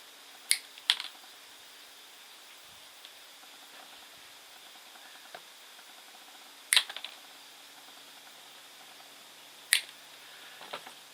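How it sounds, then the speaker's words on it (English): Tie-in wires on a Sambucus Black Lace bonsai are cut with a few sharp, isolated metallic snips several seconds apart, close and crisp against a quiet, faintly hissing background. "let's cut these tie-in wires"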